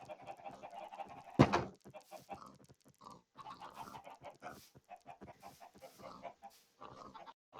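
Pigs grunt and chickens cluck in the video game Minecraft, a scatter of short animal calls from a pen of twelve pigs and twenty-one chickens, with one louder burst near the start.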